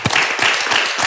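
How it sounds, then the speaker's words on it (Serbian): A studio audience claps in dense, continuous applause, loud and close throughout the short burst. "to je za veliki aplauz"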